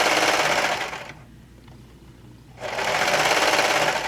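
A serger overlock machine stitches along a single layer of knit fabric for a knit shirt top, running with a loud, steady whirring hum that stops for about a second and a half, then starts again at full speed.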